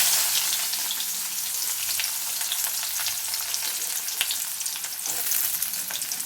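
Onions hit hot oil already crackling with mustard seeds, cumin and fenugreek, a steady loud sizzle with close popping and occasional stirring scrapes throughout, for a mango and drumstick sambar.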